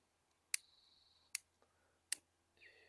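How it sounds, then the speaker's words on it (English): Chunks of freshly cut fat wood tossed into a wood-burning camp stove, landing as three sharp, close knocks spaced about a second apart, followed by a short faint rattle at the end. "I will take a couple chunks of wood, throw it in there."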